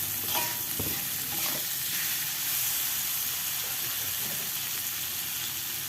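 Oseng leunca with sliced tomato is stirred in a hot pan, a spatula scraping and clattering in irregular strokes over a constant close sizzle of frying.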